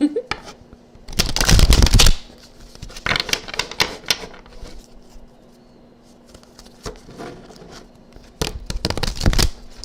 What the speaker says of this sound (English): let's shuffle the deck, get some shuffling ASMR in here